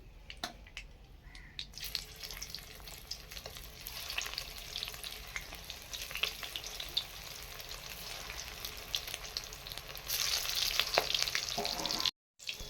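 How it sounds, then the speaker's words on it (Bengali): Steady crackling sizzle of shrimp kofta frying in hot oil, close up and continuous, with a brief cut near the end. "এই যে আবার এই খেপেরটা ভেজে নিই"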